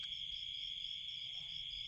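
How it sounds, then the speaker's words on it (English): Crickets chirp at night in a continuous high, shimmering trill, steady and unbroken against a quiet background. "you can hear the crickets"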